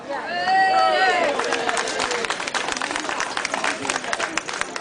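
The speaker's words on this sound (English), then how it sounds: "That's definitely worthy of applause." Crowd applause breaks out at a people's march for the NHS in Wakefield, dense outdoor clapping and cheering that follows a man's amplified speech at the start.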